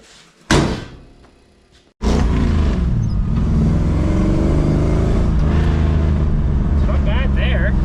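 A 1966 Ford Galaxie with a fuel-injected engine and six-speed gearbox, heard from inside: a door thunks shut, then the engine runs steadily at low RPM while driving, a loud continuous rumble to the end with brief talk over it.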